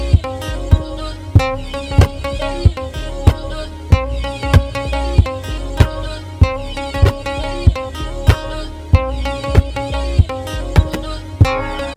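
Layered guitar loop from the song with added snare-style hits: steady, punchy percussive strikes falling in a regular rhythm over sustained tonal parts, close and fairly loud, with no voices.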